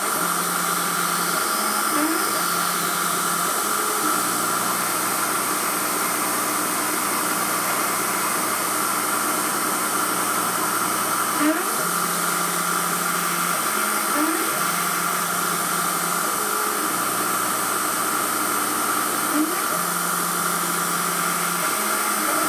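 Emco F1 CNC milling machine drilling a tapping-size hole in a model engine pan at 2000 RPM, a steady motor hum and whine running throughout with recurring low cycling tones as the spindle feeds, close and constant.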